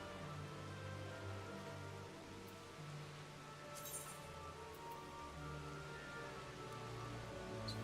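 Steady rain falls in a Final Fantasy XIV area, a constant dense hiss with faint droplet clinks under a low sustained ambient hum, even and unbroken throughout.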